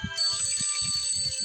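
A game alarm ringing in the video game Do Not Disturb, a steady bright electronic ring running through the clip over a lower rhythmic game sound.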